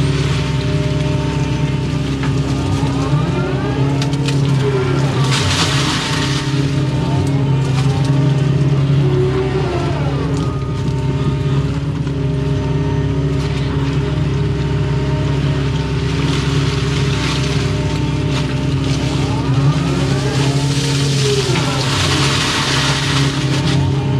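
An excavator engine runs at a steady, loud drone throughout while the machine cleans out a ditch, with continuous low rumble and hydraulic whine and no voices heard.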